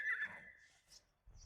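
A horse at the Yeola horse market gives a short, fairly close whinny that fades into near silence, followed by a low thump at the end.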